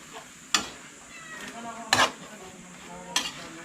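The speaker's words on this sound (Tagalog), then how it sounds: "Haluin na natin. Kahit madurog na yung sardinas." A utensil scrapes and knocks through sardines and vegetables in a pan, three sharp clanks against the metal over a low background sizzle, close and unhurried.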